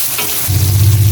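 Garlic, onion and tomato sautéing in a pan for pork afritada, a short burst of close, loud sizzling and frying that swells midway, with no talking.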